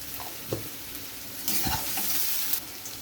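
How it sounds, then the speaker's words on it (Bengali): Potatoes and yardlong beans fry in hot oil with a steady close sizzle, broken by a few stirring scrapes and clinks of a spoon against the pan. "বরবটি আলু কেটে নিয়েছি এটাকেও আমি ভেজে নেব"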